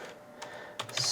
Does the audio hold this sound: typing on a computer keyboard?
yes